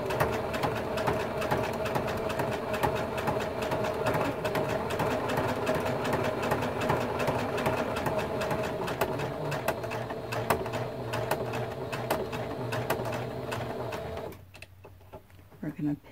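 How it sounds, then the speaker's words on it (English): A sewing machine stitches down a quilted mug rug with a steady, fast, close mechanical whir that runs continuously for about fourteen seconds, then stops into near quiet. "And now we're ready to just sew this down."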